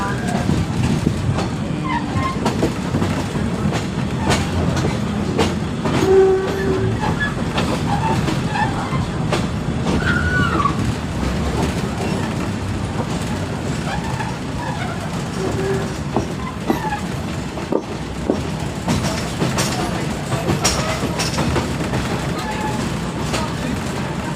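Continuous rumble and rhythmic clatter of a train rolling on rails between Hua Lamphong and Bang Sue in Bangkok, heard from on board, with occasional faint squeals and a voice talking now and then.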